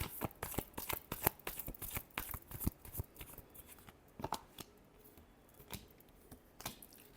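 Tarot cards are shuffled by hand at close range, giving rapid papery riffles and taps in quick clusters that thin out toward the end, with no talking.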